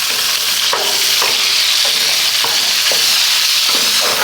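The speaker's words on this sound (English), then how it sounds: "All right, so we got our bacon going." Bacon renders on low heat on a cooker, giving a loud, constant crackling sizzle with periodic spatter pops spaced about half a second apart, close and with no voices.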